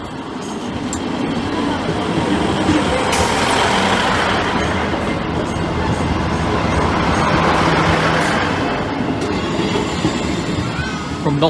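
A train rolls through the Lincoln High Street level crossing, a loud, sustained rumble of passing wagons with a brief high squeal near the start, swelling and holding before easing off at the end, with a voice faintly beneath.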